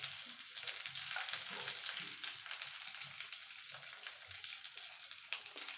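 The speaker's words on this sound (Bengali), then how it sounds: "কাজু কিশমিশটা আমি হালকা করে ভেজে নেব" Cashews and raisins fry in ghee with a soft, continuous sizzle and light crackle, close and steady, with faint stirring and no talk.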